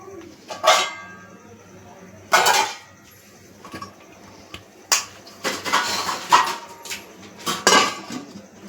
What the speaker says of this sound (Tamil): இப்போ இதுக்கு ஒரு மூடியை போட்டுடலாம்